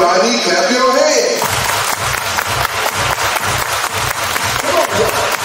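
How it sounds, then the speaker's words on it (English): Wedding guests clap their hands in steady rhythm over loud, pounding dance music with a heavy regular beat, while a voice calls out over the crowd. "Everybody clap your hands."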